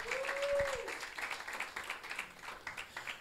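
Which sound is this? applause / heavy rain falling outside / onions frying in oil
applause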